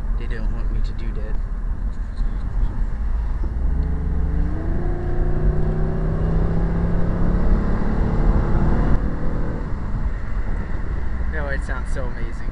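A 1996 Chrysler Sebring fitted with a new air intake pulls away and accelerates, its engine tone climbing steadily and then easing, heard from inside the car with wind noise and a voice talking over it.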